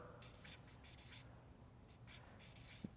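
Pen or pencil writing by hand on paper, short scratchy strokes in uneven bursts with brief pauses, close and fairly quiet, with no talking.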